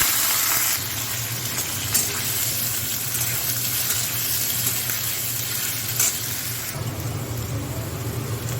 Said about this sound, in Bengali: এবার আলুটা খুব ভালো করে ভাজবো।